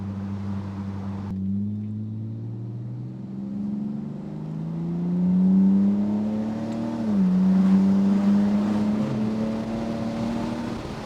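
BMW E46 car driving along a foggy mountain road, a steady engine drone with harmonics that rise and fall through gear changes, the engine coming up under load near the middle and end, with no talking.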